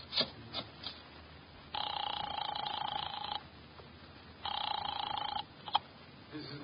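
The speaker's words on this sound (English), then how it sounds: "I grabbed the office phone and dialed Wolfe at once." An old office telephone in the Nero Wolfe story rings twice in long electric bursts after brief dialing clicks, with a quiet pause between the rings.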